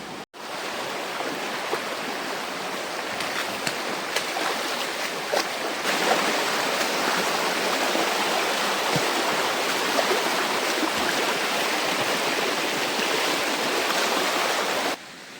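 A jungle river stream flows in a constant close rushing wash, with a brief knock at the start and the sound cutting off near the end.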